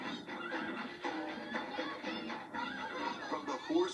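A horse neighs in a Patapon video game trailer, a steady whinnying cry with faint hoof-like clopping under game music.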